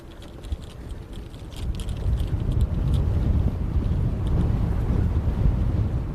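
Strong gusting wind across a golf course during a professional tournament round buffets the microphone in a low, continuous rumble that builds after the first second and stays loud, with faint clicks and rustles scattered over it.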